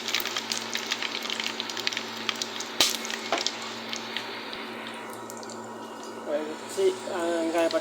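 Mustard seeds, cumin, cinnamon bark, cardamom and cloves sizzle in hot oil for a vegetable kuzhambu, a loud, steady frying hiss with scattered pops and crackles and a clink partway through. A voice speaks over the sizzle.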